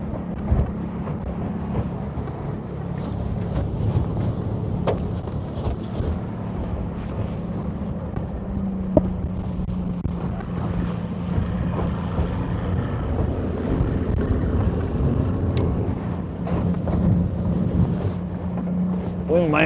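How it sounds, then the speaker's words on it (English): Steady wind buffeting the microphone on a lake during a fishing trip aboard a trolling boat, a constant low rumble with occasional gusts and faint knocks throughout. "Seems like the wind might be dying down ever so slightly."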